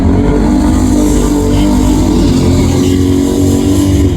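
Drag race car with a 1973 Chevrolet engine accelerating hard down the strip at The Bend Dragway Spring Nationals, a loud, steady, dense engine roar that fills the whole stretch without letup.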